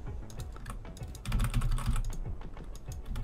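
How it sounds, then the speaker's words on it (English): A computer keyboard is typed on quickly while working in Visual Basic, giving a dense run of close clicking keystrokes with a slightly heavier stretch of key presses in the middle. No voices are heard. "Type something in. Type a bunch of stuff in."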